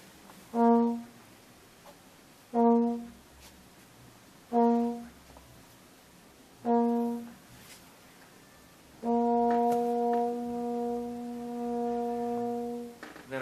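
A brass instrument plays very soft notes at the edge of speaking: four short swelling tones evenly spaced, then a longer sustained note, quiet and close, with no voices.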